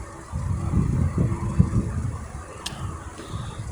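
A Ford Puma petrol car with an automatic gearbox runs with its engine on, giving a steady low rumble close by, with a few brief knocks and a short high click partway through.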